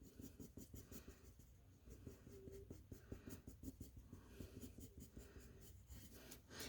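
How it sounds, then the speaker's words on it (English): A pencil scratches and rubs across paper as an eye is drawn, a quiet, close sequence of short rhythmic strokes. "I'm going to go ahead and do the eye right here with pencil."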